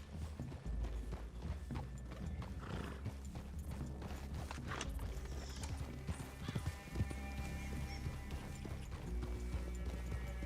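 Horse hooves clip-clop steadily at close range on a trail in the video game Red Dead Redemption 2, with a brief whinny, low ambient rumble and occasional creaks of tack throughout.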